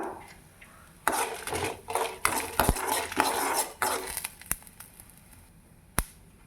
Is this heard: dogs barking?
no